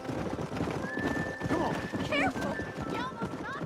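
Horses whinny several times over steady clip-clopping hooves in the cowboy game Red Dead Redemption, the neighs rising clearly above the trotting while people talk underneath.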